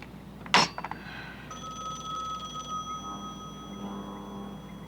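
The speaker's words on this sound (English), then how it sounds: "You have the phone. Answer it." An old-fashioned telephone bell rings in a police office, a loud sharp burst followed by a steady, sustained ringing tone that fades slightly, with no talking.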